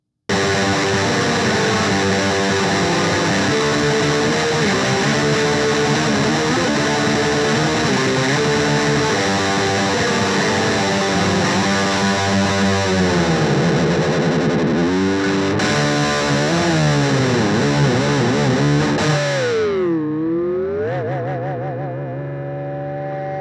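Black metal guitar played through a small Peavey Rage 108 practice amp: heavily distorted, buzzy chords and tremolo runs throughout, with pitch bends and dives near the end as the noise fades out.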